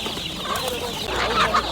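Hens cluck and squawk amid the stalls of the Osmaniye Tuesday poultry market, a steady close crowd of overlapping bird calls that grows louder toward the end, with no talk.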